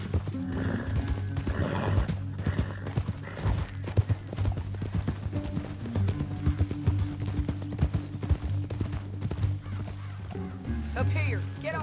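Rhythmic hoofbeats of horses galloping in the Western video game Red Dead Redemption 2 clatter steadily and close, with occasional neighs over a low engine-like drone and a brief change of sound near the end.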